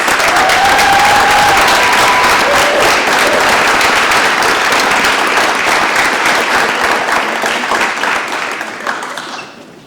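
Loud, sustained audience applause and cheering for student athletes at a school district board of education meeting, a dense crowd of clapping that holds steady for several seconds before tapering off at the end.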